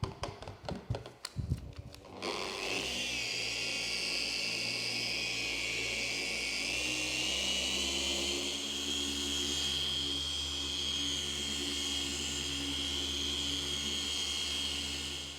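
A car polishing machine runs on car paint; a few handling clicks and knocks give way to a steady motor whine with a hum beneath, its pitch shifting partway through, with no talking.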